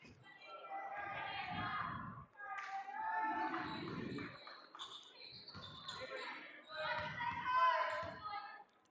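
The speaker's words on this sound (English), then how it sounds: "The crowd is getting into it." A crowd claps and cheers at a small-school 1A basketball game between Hoonah and Angoon, a steady roar with rising swells, while a commentator talks over it.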